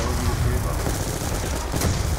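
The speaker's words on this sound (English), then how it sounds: "Alright, hold them off with your ray gun." Ray gun firing in Black Ops 2 Zombies, a dense continuous barrage of shots and blasts mixed with game noise, loud and steady throughout.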